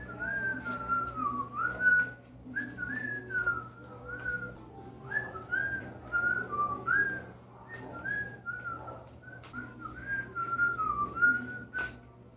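A man whistles a wandering, lilting tune in continuous phrases, loud and close, with a steady low hum underneath and no talking.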